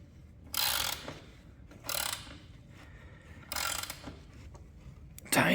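A ratchet wrench tightens the rear wheel nut on a Razor MX350 electric motorcycle, giving four short bursts of rapid clicking separated by pauses, close and clear.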